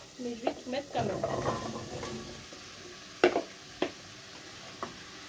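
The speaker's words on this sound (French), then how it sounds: "je vais tout remuer" Butternut squash cubes stirred in olive oil in a pan, soft scraping and gentle sizzling with a few sharp utensil knocks against the pan, fairly quiet and close.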